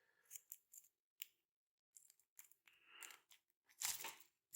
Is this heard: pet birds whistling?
no